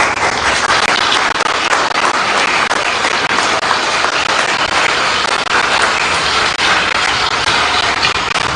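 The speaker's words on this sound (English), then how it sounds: "So let's give a round of applause for them." A crowd at a political party presidential primary in Abuja claps steadily for election observers, a dense and loud roar of applause that runs unbroken from start to finish.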